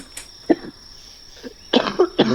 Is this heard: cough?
yes